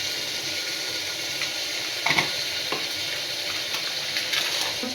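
Spices and tomato paste sautéing in a pan for a chole curry, a dense continuous sizzle with a few faint stirring scrapes, close and even throughout.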